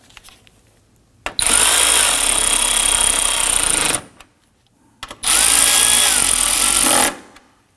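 A power tool snugs down bolts on the air filter box of a 2003-2014 Volvo XC90 in two loud, close, sustained whirring bursts of about three and two seconds, with a short pause between them.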